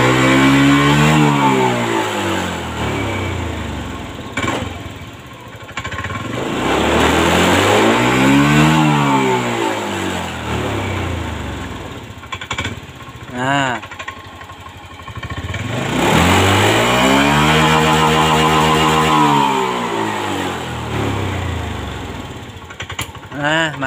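A 2022 Honda Scoopy scooter with white exhaust smoke and heavy oil consumption revs up and drops back repeatedly, its engine pitch swelling and falling in long loud sweeps with a couple of shorter blips in between.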